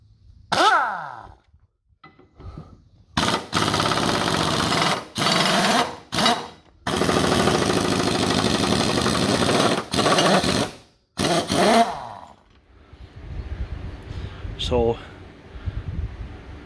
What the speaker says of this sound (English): I thought I'd take the mower blades off and sharpen them